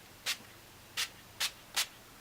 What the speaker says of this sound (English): Let's spray a little bit on the face.